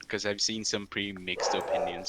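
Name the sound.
dog barking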